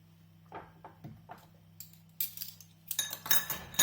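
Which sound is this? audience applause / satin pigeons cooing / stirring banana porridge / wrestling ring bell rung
stirring banana porridge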